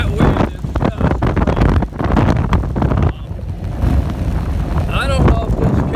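Strong wind buffets the microphone while a rider pedals a gravel bike outdoors, a steady loud roar with gusts, and someone speaks over it.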